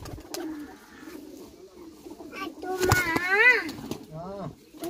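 A pigeon in Sialkot gives soft, low, rolling coos in short bursts, close by, with someone talking over and between them.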